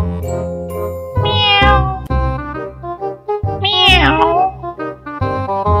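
A person imitating a cat's meow, giving a string of loud, close, drawn-out mewing cries with rising and falling pitch, one after another.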